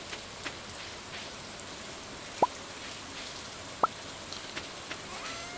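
Steady, soft rain in the Stardew Valley video game forms a quiet hiss throughout, with two brief, clear drip-like plops standing out near the middle.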